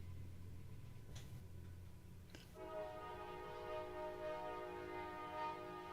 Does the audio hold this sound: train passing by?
yes